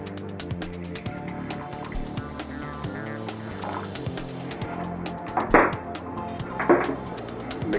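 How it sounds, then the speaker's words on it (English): Hot water poured over a moldable press-molding material, a light splashing and trickling pour with a couple of brief louder splashes, heard close and without any talking. "how it works is you just add hot water"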